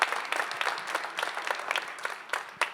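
Audience applause at a public budget discussion in a community center, a crowd clapping steadily and close for the whole stretch, with no talking over it.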